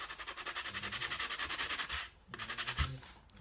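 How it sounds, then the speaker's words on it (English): Cork edges are rubbed with super fine grit sandpaper in quick, even back-and-forth strokes, close and fairly quiet, pausing briefly before a few more passes. "super fine grit sandpaper, and you would just sand"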